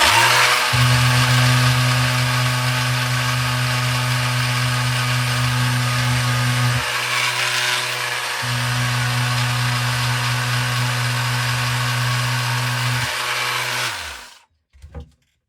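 Black & Decker electric power sander sanding the wing of a 1/72 scale plastic model kit, a loud steady motor drone with a brief dip midway before it shuts off and winds down at the end.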